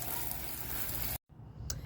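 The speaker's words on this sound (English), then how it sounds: "Now I have to go turn on the water hose." Hose water spraying onto the engine bay of a 2016 Kia Optima during an engine cleaning, a dense hissing wash that cuts out abruptly for a moment, then resumes more faintly with a brief splash.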